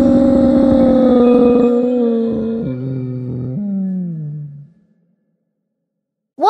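A voice in League of Legends playing Nunu imitates a long wolf-like howl, loud and close, sliding downward in pitch before fading into silence.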